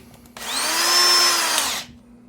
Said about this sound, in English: start some screws here